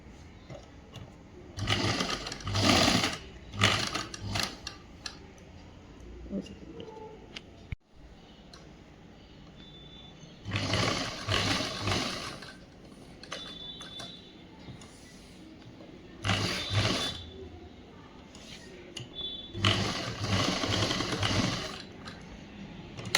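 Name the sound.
sewing machine stitching a boys' school uniform shirt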